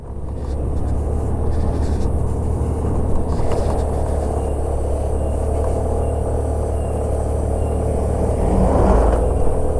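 A Suzuki Burgman scooter engine drones steadily as it accelerates up a long, steep mountain climb, a loud continuous rumble with wind noise and no talk.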